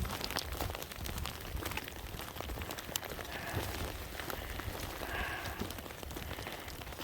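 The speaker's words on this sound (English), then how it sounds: "it's still raining" Steady rain falls during a wet, muddy mountain trek on the Salkantay route, a dense continuous patter of drops striking nearby surfaces with no speech, holding an even level throughout.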